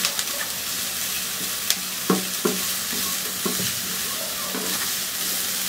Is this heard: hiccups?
no